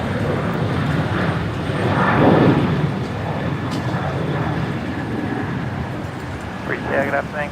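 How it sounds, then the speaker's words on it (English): A Qantas airliner passes at Brisbane Airport, a steady broad engine roar that swells briefly near the middle and holds under faint background noise. "Qantas 627 heading down to Melbourne"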